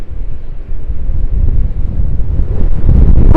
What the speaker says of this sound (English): some of the gusts are kind of topping that 25 mile per hour mark, or even 30